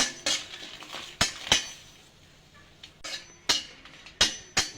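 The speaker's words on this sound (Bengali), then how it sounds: "লঙ্কা দিয়ে দেব, রসুন কাটা দিয়ে দেব, একটু নাড়াচাড়া করে নেব।" Chili and garlic stirred in a pan for tomato chutney, heard as a run of crisp metal clinks and scrapes of a spoon against the pan in an uneven rhythm over a faint low sizzle.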